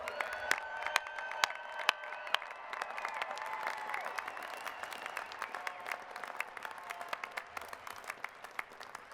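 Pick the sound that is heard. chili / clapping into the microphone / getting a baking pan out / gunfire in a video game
clapping into the microphone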